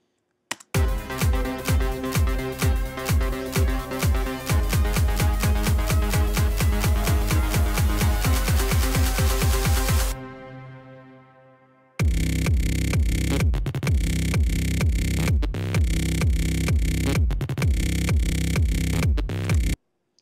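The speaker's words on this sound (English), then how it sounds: "you'll be able to hear the bass that I've got in there, which is really beefy" A beefy one-oscillator bass synth patch made in Massive, played as loud rhythmic repeated notes, pausing briefly and then resuming with a stuttering, gated pattern, with no talking.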